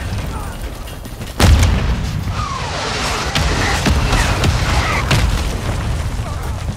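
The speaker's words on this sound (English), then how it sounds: "They're doing a lot, they threw a bomb." In the Call of Duty: Modern Warfare II game, a bomb goes off with a single heavy boom early on, followed by a rumbling wash of battle noise and scattered sharp cracks.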